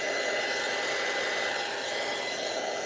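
A hair dryer blowing on alcohol inks to dry them, a steady close-up whirring rush of air with a high motor whine, constant and loud throughout with no talk.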